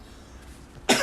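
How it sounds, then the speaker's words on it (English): A single sharp cough bursts out at the very end after near silence, close and fairly loud, with no talk. "Not sure why I'm coughing all of a sudden."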